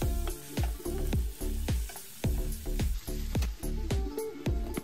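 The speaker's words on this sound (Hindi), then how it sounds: "रिब्स को भी 2-3 मिनट भूनने के बाद इसमें टमाटर डाल दिए" Lamb ribs with tomatoes cooking in a pot, with a rhythmic series of stirring knocks and scrapes over a soft sizzle, close and steady, with no talking.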